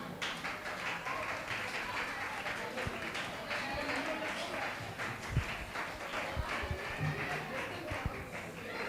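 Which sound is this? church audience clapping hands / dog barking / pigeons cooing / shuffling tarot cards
church audience clapping hands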